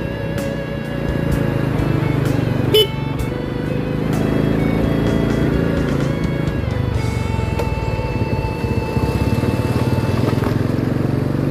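An older Honda Supra motorcycle accelerates in third gear, its engine droning loud and steady with rising revs, close up, plus wind and road noise and a sharp knock partway through.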